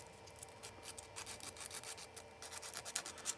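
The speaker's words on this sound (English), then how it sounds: "We're just going to kind of scuff this a little bit." Rough rasping strokes of abrasive scuffing across the surface of a 3D printed plastic USB flash drive shell before painting, a quick irregular series of close scratchy rubs with no talking.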